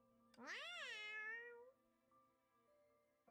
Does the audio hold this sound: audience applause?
no